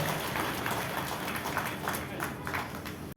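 A crowd gives a steady round of applause for a dignitary at a National People's Party political gathering, with dense, even clapping that holds at moderate loudness for a few seconds before cutting off.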